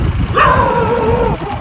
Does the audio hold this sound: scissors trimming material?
no